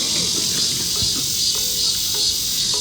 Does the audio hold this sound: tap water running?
no